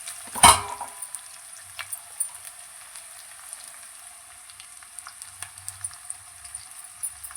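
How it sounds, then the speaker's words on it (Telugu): Ginger and green chillies frying in oil in a pan give a soft, steady sizzle and crackle, with a sharp clatter at the start and faint intermittent pops, close but quiet. "అల్లం కొంచెం పచ్చి వాసన పోయేదాకా బాగా నూనెలోనే వేగనిస్తే బాగుంటుంది."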